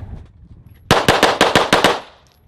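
A gun fired in a rapid burst of about seven sharp, loud shots in quick even rhythm, close by, ringing off briefly after the last report.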